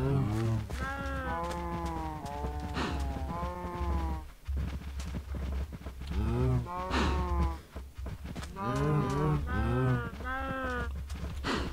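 Cows in the video game Minecraft moo repeatedly, several drawn-out lowing calls in a row with short gaps, loud and close.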